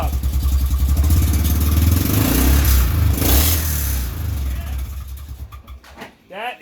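A Yamaha Rhino 660 utility vehicle engine with a pull start mod, running and revving in a loud, close rumble that rises and then drops off, with someone talking over it near the end.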